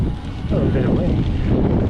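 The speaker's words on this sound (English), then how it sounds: "Oh, a bit of wind." Gusty wind buffets a helmet-mounted microphone during a mountain bike ride up Stromlo, a steady rough rumble that swells from about halfway through.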